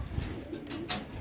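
Pigeons kept on a rooftop loft coo softly in a brief, faint burst, with a short brighter call near the end and no voices.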